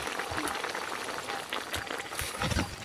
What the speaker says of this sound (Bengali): এখন এটাকে আমি 5 মিনিট ধরে ভালো করে ফুটিয়ে নিয়েছি